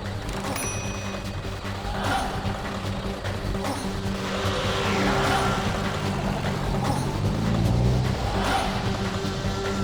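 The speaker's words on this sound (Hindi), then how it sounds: "रिवर्स गाड़ी घुमाओ।" A car engine revs and strains as the vehicle reverses and swings around, with a rising squeal of tires near the end, close and loud under a tense, noisy scene.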